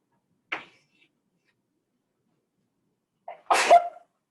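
After a short faint sound, a single sharp sneeze bursts out, close and loud, in an otherwise quiet classroom.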